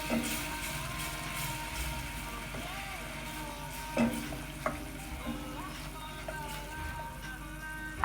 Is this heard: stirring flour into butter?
yes